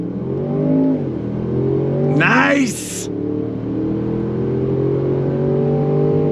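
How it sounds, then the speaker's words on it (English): The V8 engine of a 2023 Range Rover Sport revs hard through its quad-tip exhaust, rising in pitch to a sharp peak, then dropping back into a steady loud drone as someone speaks briefly. "Love that V8 sound, absolutely love it. Coming out of that quad tip exhaust."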